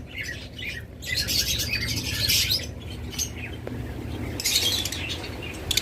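A pair of lutino Fischer's lovebirds at a bird sale gives repeated sharp, high squawks and chirps in bursts over a steady background hum, fairly close, with no talking.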